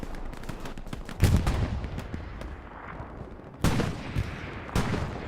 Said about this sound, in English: The Axis are in the main building that's going to get pounded with a whole bunch of artillery.